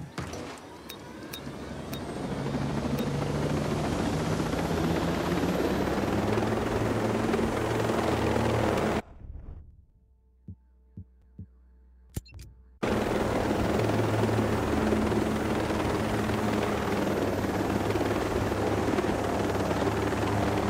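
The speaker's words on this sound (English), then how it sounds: "Helicopters can fly in to exfiltrate the Bodark advisor." Helicopters flying in within a video game, a steady loud rotor drone that holds for several seconds, cuts out to near silence with a few faint clicks, then resumes just as strongly.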